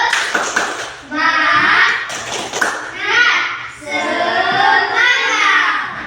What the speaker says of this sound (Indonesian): Mana tepuk semangatnya? Tepuk semangat.